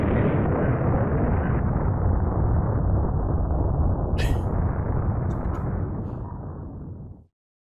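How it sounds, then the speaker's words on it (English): Loud, sustained rumbling explosions from the video game Super UptroidDown, a dense continuous roar that holds for about six seconds before fading and cutting off, with a few faint high crackles near the end. "Explosions upside down."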